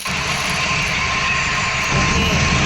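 A steady, loud train engine drone in a Roblox Thai railway game runs throughout, a continuous mechanical roar with no speech, shifting slightly in tone near the end.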